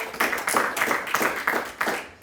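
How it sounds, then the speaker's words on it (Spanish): A church congregation applauding, with a burst of rhythmic, fairly loud hand clapping that pulses steadily throughout. "Denle un aplauso, Señor."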